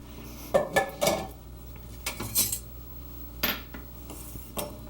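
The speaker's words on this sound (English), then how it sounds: "I'm going to slice the onion. And get my knife." A knife slices an onion on a board in a home cooking-show kitchen, giving a few crisp cuts and taps in short bursts, fairly close and without talk.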